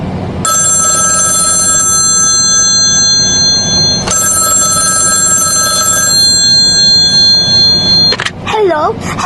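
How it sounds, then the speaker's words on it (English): A telephone bell rings in two long bursts, loud and close, with a brief pause between; a sharp click and rustle follow at the end. "every time the phone rings"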